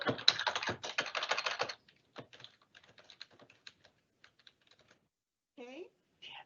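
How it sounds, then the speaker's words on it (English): Someone types a business name on a computer keyboard: a quick, close burst of clicky keystrokes for a second and a half, then scattered lighter taps with pauses, and no voices. "You're going to be brought into this screen where you're going to begin typing your business."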